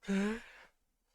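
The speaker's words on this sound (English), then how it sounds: "that's some serious yawning" A single voiced yawn from a game character, rising into a strong tonal moan that holds for about a third of a second and then trails off into breathy exhalation before near silence.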